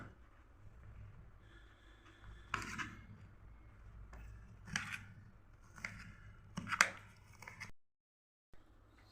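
A knife cutting fried mirchi bajji at a street-side stall gives several crisp, crunchy slicing strokes at irregular intervals over a low background hum, close and fairly quiet, ending in a short silence.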